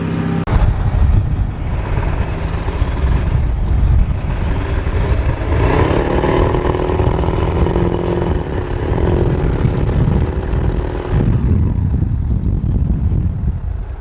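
A Ford 7.3 diesel engine in an old OBS pickup runs loud and close, a rough continuous clatter with a rise in revs midway before settling back to a steady rumble.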